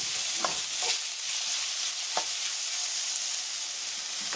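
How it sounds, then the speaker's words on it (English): Shrimp stir-fry in a hot pan, sizzling steadily with a few sharp spatula clicks and scrapes, close and fairly quiet. "the whole idea here now is to kind of stir fry this up and let this cook without releasing too much water"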